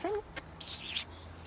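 A pet bird, likely a parrot or corvid, gives a few short chirping calls close by in a quiet room, a quick high note followed by brief squeaky whistles.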